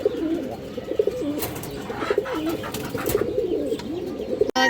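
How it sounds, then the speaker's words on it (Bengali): A large female pigeon coos nearby in a repeated rolling, wavering call, with faint chirps and brief rustles around it, and a sharp knock just before the end. "একটা খুবই সুন্দর মাদি কবুতর আছে মাশাআল্লাহ, বিগ সাইজের।"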